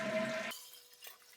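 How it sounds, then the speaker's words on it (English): An old American Standard toilet flushes close by with a rush of water that cuts off sharply, followed by a quieter trickle and a tank refilling. "So first, flush the toilet."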